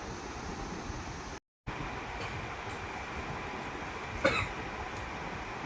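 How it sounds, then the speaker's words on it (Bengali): A child coughs once, a short sharp burst late in the stretch, over a steady low indoor hum. "কাশছিস কেন?"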